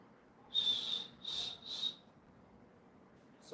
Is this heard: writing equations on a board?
no